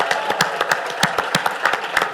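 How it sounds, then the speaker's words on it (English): Audience applause greeting an AWS representative at a student mental health event, heard as a burst of separate, uneven claps close by with sharp transients throughout, modest in size and with no voices. "Give her a round of applause"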